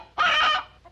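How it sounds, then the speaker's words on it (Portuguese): A chicken gives a single loud, close squawking cluck lasting about half a second, with a faint second call just after. "Galinha, doutor. Galinha!"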